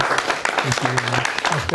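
Studio audience at a state representative candidate debate applauding the three candidates, a steady wash of clapping with a voice speaking over it near the microphone.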